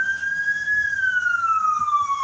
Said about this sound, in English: Oh, here comes the ambulance.